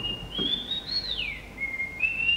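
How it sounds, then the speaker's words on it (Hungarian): A clear, sliding whistled melody from a boy, played back from a tape recorder, one sustained wavering tone rising and dipping, heard alone over faint background hiss. "Hogy tud ez a kölyök fütyülni?"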